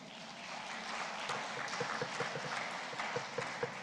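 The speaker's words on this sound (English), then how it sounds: "Keep clapping, please," A conference audience at a West African clean energy event claps steadily, a dense and continuous patter of many hands heard at moderate loudness with no one speaking.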